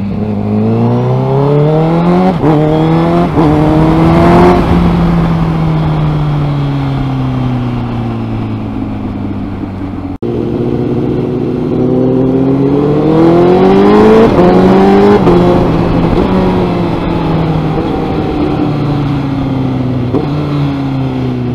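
2017 Honda CBR1000RR Fireblade motorcycle fitted with a Graves slip-on exhaust, revved twice in long sweeps, each climbing to a loud, high-pitched howl then falling back toward idle, close and alone.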